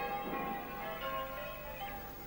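Wedding church bells ring in a Captain Pugwash cartoon, a steady overlapping peal of bright tones that carries through the whole moment with no talking.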